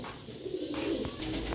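Sialkoti rooftop pigeons coo in a short, soft, low throaty burst, close by, with background hiss and a brief rustle.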